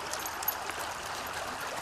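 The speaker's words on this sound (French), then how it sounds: "On arrive au deuxième ruisseau." A small brook flows steadily beside the listener, giving a soft continuous trickle and babble of water with no voices.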